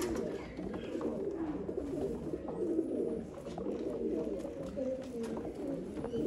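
Young pigeons coo in a loft, soft repeated throaty rolling calls in a steady rhythm, fairly quiet and close, with no talking over them.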